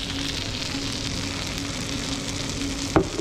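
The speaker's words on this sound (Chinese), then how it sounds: "非常香，滋滋作响。" Fajita meat sizzles hot on a platter at a Mexican restaurant in Indiana, a steady close hiss that runs the whole time, with a brief clatter near the end and no talking.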